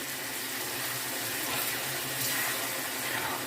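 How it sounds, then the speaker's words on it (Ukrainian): Boiling water is poured over cabbage rolls in a pan in a continuous, close, splashing rush that stays even throughout. "заливаємо окропом"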